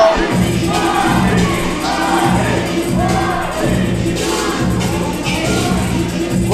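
Loud, dense crowd noise fills a Dominican bar during a heavyweight championship wrestling match, a steady roar of cheering and shouting voices that swells and holds for several seconds.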